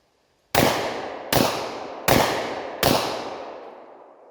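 Four loud, sharp handgun shots from 10mm and .40 S&W pistols, evenly spaced under a second apart, each followed by a long ringing outdoor echo that fades out.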